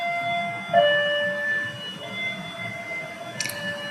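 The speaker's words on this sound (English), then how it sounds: "There are so many ambulances now" An ambulance siren wails briefly at a distance, a thin steady tone over low background rumble with no voices.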